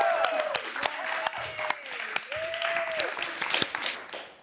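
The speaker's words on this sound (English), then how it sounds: "You can go ahead and clap." A small audience claps after a student film screening at a university, with sharp separate claps over a soft background and voices murmuring.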